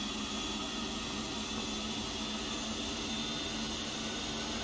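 Steady, even roar of a Boeing 757 freighter's jet engines in the X-Plane 11 flight simulator, a DHL cargo flight from Cincinnati to Boston, a constant broadband whoosh with a faint hum and no other sounds.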